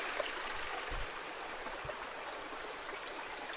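A mountain stream in the North Cascades backcountry flows steadily at a water stop, its broad, even rush of water continuous and fairly close with no voices over it.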